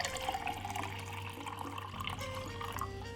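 Water pours from a tap or jug into a large glass in a home kitchen while making a redcurrant drink, a steady close trickle with a faint hum underneath.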